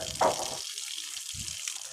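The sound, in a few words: water pouring down while curing new house construction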